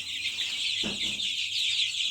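Soft clucking from chicks rises briefly over a constant high-pitched ventilation hum, close by and fairly quiet.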